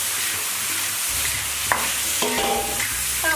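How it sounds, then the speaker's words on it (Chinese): Bean pods being stir-fried over high heat in a Northeastern Chinese one-pot dish, a soft steady sizzle with scattered scraping clinks of a spatula against the pan, close, with no talking. "大火多炒一会儿"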